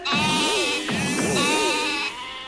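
Adult sheep bleating in a voiced, wavering call with warbling harmonics, heard close and loud over about two and a half seconds with slight dips, no talk.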